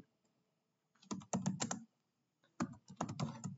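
Typing the route print command on a computer keyboard for a network administration task, heard as two short bursts of rapid key clicks separated by a pause, close and fairly loud.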